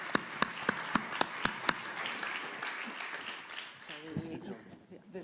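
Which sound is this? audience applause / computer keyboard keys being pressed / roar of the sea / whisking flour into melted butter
audience applause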